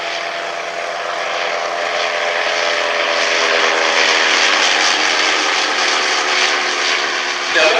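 Vintage First World War triplane and Sopwith Camel flying at the Shuttleworth heritage airshow, a loud sustained propeller engine drone that swells slightly as they pass, with a commentator talking over it.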